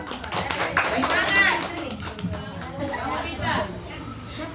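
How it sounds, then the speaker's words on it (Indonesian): Applause for a group at a creative teachers' competition, mixed with children's chatter and voices, busy and continuous throughout. "kita beri tepuk tangan kepada gugus 4."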